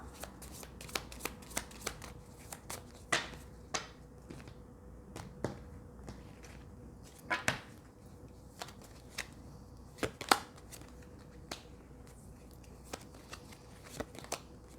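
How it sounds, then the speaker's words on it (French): Tarot cards shuffled and dealt out on a table, a run of crisp, close slaps and snaps at irregular intervals over a quiet room, with no talking. "Je vais continuer à couvrir ces cartes avec les autres cartes."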